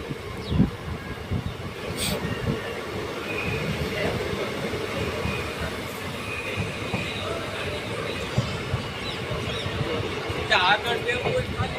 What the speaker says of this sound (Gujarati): તો મિત્રો આપણી ટ્રેન ખાખરિયા સ્ટેશનથી ઉપડી ચૂકી છે